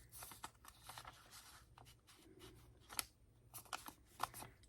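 Scissors snipping through an old greeting card, a handful of quiet crisp cuts and paper rustles close by, faint and intermittent.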